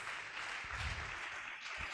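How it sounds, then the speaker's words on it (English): An audience at a workforce workshop applauds, a faint, steady wash of clapping from a room of people, heard at a distance and fairly low in level. "please, a round of applause"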